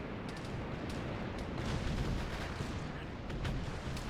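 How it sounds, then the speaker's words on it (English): Bomb blasts from an Arma 3 military game battle roll on continuously as a dense, rumbling wall of explosions and gunfire, with several louder bursts rising and falling across the scene. "Looks like they're hitting things with bombs as well."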